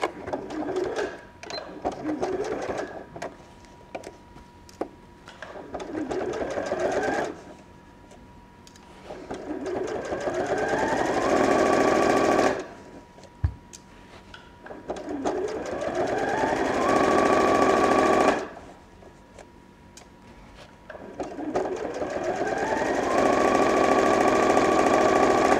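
Straight-stitching a seam on an overnight bag, a sewing machine whirs up to speed in several loud bursts separated by brief pauses, with faint speech in the gaps.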